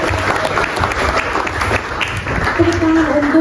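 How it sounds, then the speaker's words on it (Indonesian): Audience applause at an Indonesian book-discussion event, a burst of clapping heard alongside a speaking voice, moderately loud and fairly close. "Tepuk tangan untuk pesan dan pesannya, dan tepuk tangan karena acara ini begitu luar biasa"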